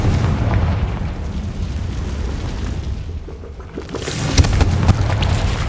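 A Confringo spell blast in Hogwarts Legacy, a loud rumbling explosion that booms continuously, dips briefly, then swells again with a second burst near the end.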